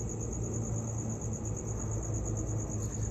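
Steady, high-pitched cricket chirping fills the background continuously, with a low rumble underneath and no talking.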